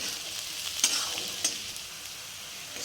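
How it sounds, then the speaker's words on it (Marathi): Chopped onion sizzling steadily in a pan over a low gas flame while a spatula stirs it, with a couple of soft scrapes over the faint crackle. "गॅसची फ्लेम कमी ठेवून मिक्स करत राहा सतत, म्हणजे करपणार नाही कांदा"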